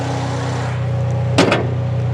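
The engine hood of a white metallic 2013 Toyota Vios Limo shut over a steady low engine hum, a quick double thump standing out midway, close by and without speech.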